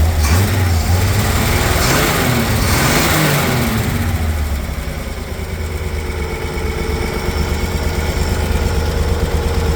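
A 1951 Chevrolet panel truck's straight-six engine, a 230 or 250, idles steadily and close by, with a low, even rumble and a slight rise in revs partway through; nobody speaks.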